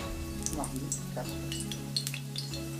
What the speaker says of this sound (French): mettre l'ail à griller